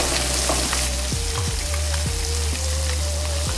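Blackened fish frying in butter in a cast iron skillet, a loud, steady sizzle and crackle with a few soft knocks and scrapes of utensils against the pan.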